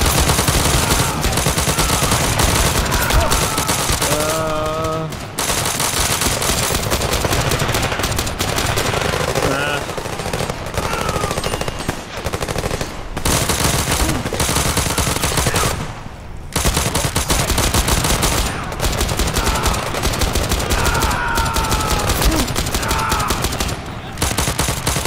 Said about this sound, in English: I'm shooting my own friends all the time.